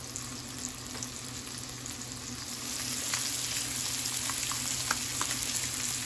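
Blackened fish fillets frying in a pan, a steady close sizzle with faint crackles and pops throughout, getting a bit louder partway through.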